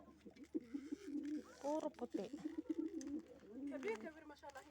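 Pigeons coo in low, rolling bursts nearby while a person speaks briefly over them.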